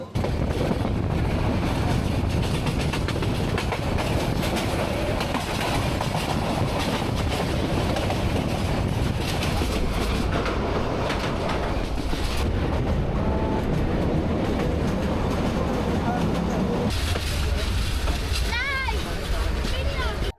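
The Kalni Express train runs on the rails, a loud continuous rumble with clattering wheels and wind noise, while a voice talks over it.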